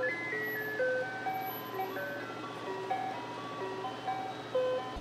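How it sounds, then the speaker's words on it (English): Ice cream truck parked outside playing its melodic jingle, faint and somewhat distant, the tune looping steadily with no voices. "the ice cream truck is outside"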